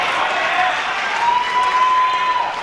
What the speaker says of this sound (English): The crowd's starting to really enjoy the contest now, aren't they?